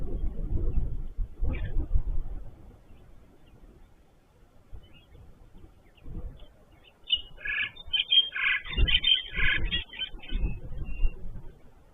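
Birds call and chatter in the distance at an African waterhole, with a burst of overlapping chirps midway, over a low outdoor rumble of wind or traffic.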